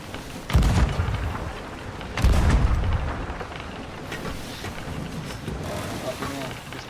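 Cannon fire in the pirate game Sea of Thieves: two heavy booms close together near the start, each followed by a rumbling tail, with wind noise and water sounds underneath.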